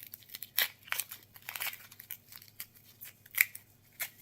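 Dry papery skin being peeled off an onion on a cutting board, giving a series of short crinkling, tearing rasps at an irregular rhythm, close and fairly quiet, with no voices.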